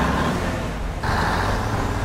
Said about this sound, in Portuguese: o caminhão entra em ação.